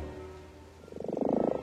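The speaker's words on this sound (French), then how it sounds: "Ici vit Monsieur Crapaud." A toad croaks near and clearly in a rapid pulsing trill that swells in loudness toward the end, following a quiet low rumble.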